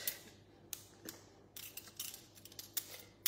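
A wide vegetable peeler scrapes tough skin off autumn root vegetables for roasting, giving scattered short rasping strokes, close and fairly quiet, with no one talking.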